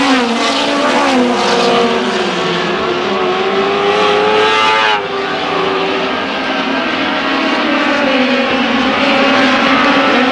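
Race cars lap a dirt track at Susquehanna Speedway: loud, roaring engines rise and fall in pitch as cars sweep past through the turns, with a sharp dip near the middle as one passes close, and no talking over them.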